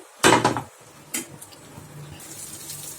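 Podi idli, a chilli-powder idli, being flipped on an oiled dosa pan: a sharp metallic scrape and clatter of the spatula near the start, a second brief clink, then a low steady sizzle of frying.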